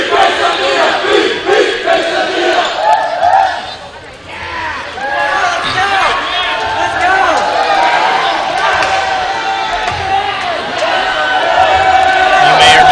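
A crowd at a high school varsity volleyball game in a gym cheers and chants, a dense wash of voices that dips briefly then swells again, with an announcer talking over it.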